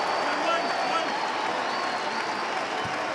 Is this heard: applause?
yes